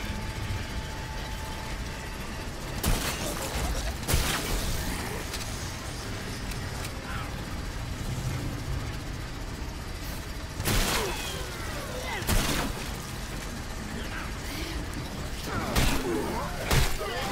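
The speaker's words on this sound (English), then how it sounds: "Let's try the shotgun." Shotgun blasts in The Callisto Protocol, several loud booming shots spaced irregularly over a low rumbling engine-like game ambience, with a voice talking in between.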